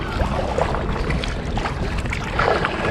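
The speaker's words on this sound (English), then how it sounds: "The winds are picking up a little bit." Wind gusts and choppy water slap around a kayak paddling inside a break wall by the Rock and Roll Hall of Fame in Cleveland, Ohio, a steady broadband rush with no talk.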